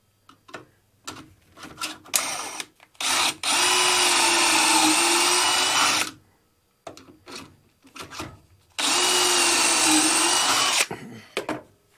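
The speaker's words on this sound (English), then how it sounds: "you can see the drill bit's going to come out down here" A power drill boring a pocket hole through a portable pocket hole jig whirs in two sustained bursts of about three and two seconds, separated and surrounded by clicks, knocks and handling noises.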